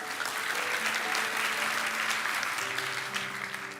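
Congregation applause during a church sermon, a dense, steady wash of many hands clapping at moderate distance, sustained evenly throughout with faint tonal hum beneath.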